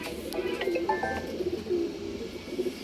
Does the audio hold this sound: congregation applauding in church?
no